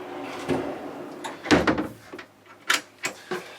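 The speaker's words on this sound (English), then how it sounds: "we have a big drawer underneath here in the bed" A large storage drawer beneath the bed of a Linssen 40.9 AC motor yacht opens with a run of wooden slides and knocks, several close, moderately loud bumps spread over a few seconds.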